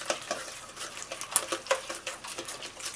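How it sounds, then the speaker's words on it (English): A sugar mixture for s'mores muffins stirred in a bowl, a quiet, irregular series of soft scrapes and clinks from a utensil against the sides, close up with no talk. "You can take that sugar mixture, go right up against the sides, mix it pretty well."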